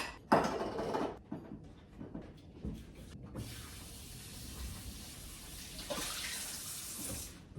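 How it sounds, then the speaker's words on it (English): Running kitchen tap water rinsing cherry tomatoes, a steady close splashing hiss that starts partway through after a few clatters and continues to the end. "Just gonna wash the cherry tomatoes."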